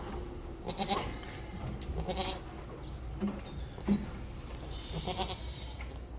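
Crossbred Boer goats at a farm where a doe has just given birth bleat repeatedly in loud, wavering calls, near and clear, with farm background noise between them.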